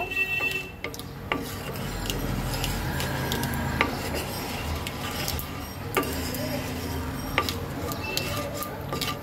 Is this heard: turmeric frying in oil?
yes